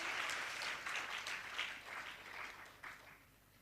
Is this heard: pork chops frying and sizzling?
no